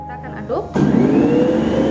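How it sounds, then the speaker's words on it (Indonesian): An electric hand mixer starts up and runs at low speed beating pumpkin bread batter with flour, in an eggless recipe. A steady motor whir comes in after a short quiet lead-in and continues close and loud. "Setelah labunya masuk, kita kocok bersama dengan tepungnya."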